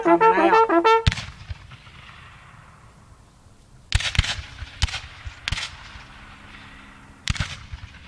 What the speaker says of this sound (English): All right, they're firing by file.